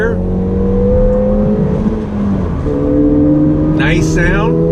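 A 2019 Ford Fiesta ST pulls hard in second gear, its engine note rising steadily and loud from inside the cabin, briefly dipping mid-pull before climbing again, with a voice speaking near the end.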